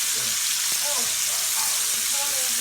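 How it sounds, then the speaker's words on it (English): Bacon bits fry with a loud, dense, continuous sizzle close by, while a utensil stirs them with light scraping through the frying and a faint voice underneath. "So we're gonna stir the bacon for the bacon bits. Just gonna keep stirring them."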